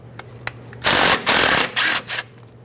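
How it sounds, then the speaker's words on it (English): A tool, probably a power ratchet or impact driver, removes a 10mm bolt holding the ABS wire near the front strut of a 2012-2017 Hyundai Accent, giving three loud close whirring bursts with short pauses. "there's a 10mm bolt holding on the ABS wire. Remove this bolt."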